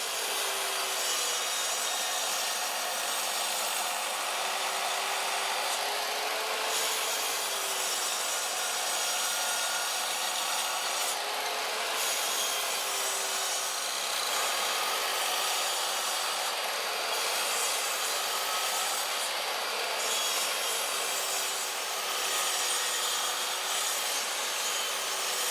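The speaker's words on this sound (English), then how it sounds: "we'll just go over to our chop saw and we'll take all that away" Wood guitar body and neck blanks being cut on a chop saw, a continuous loud, bright whine and rasp of the blade held steady for a long stretch with slight pitch dips as it bites.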